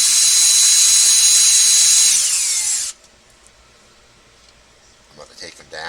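Power driver running 2.5 screws into an RC car kit: a loud, high continuous whine for about three seconds that winds down and stops abruptly, followed by near-silence with faint handling noises.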